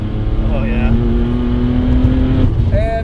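An 830 whp BMW 335i pulls at half throttle, a loud, steady engine drone rising slightly in pitch for about two and a half seconds before easing off, with a voice briefly talking over it.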